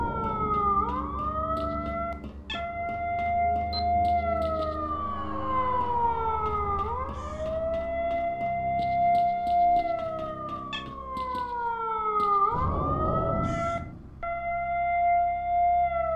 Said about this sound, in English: I swear, if this siren doesn't shut up